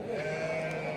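Sheep bleating at a livestock sheep market, a steady, fairly loud voiced call filling the whole second, with a low crowd murmur behind it.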